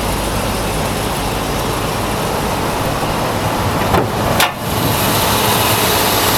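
A 1966 Ford Thunderbird runs on its original 428 engine. The close, loud, steady rumble and rush hold at the same level throughout, with a brief dip near the end.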